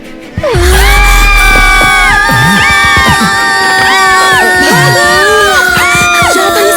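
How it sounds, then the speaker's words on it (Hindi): Loud, overlapping screams and shrieks from several people at night in a house attic, sustained and rising in pitch, with a bang at the start and crowd-like shouting throughout. "ये चीखें कैसी है?"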